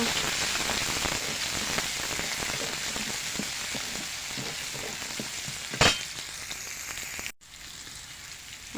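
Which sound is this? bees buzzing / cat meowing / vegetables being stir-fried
vegetables being stir-fried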